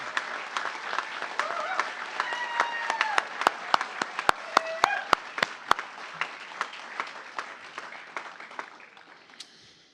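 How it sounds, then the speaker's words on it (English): A graduation audience at a high school ceremony claps, with loud, sharp close claps rising over a softer crowd of applause that thins out toward the end, and voices murmur and call out underneath. "How about one more applause?"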